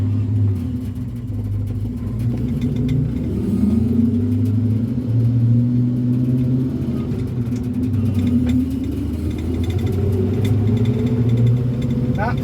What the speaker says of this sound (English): Not the fastest truck in the world. Tons of pulling power though with that 454. We're in top gear too.